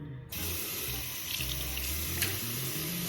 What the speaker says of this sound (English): I wash my face with lukewarm water as well.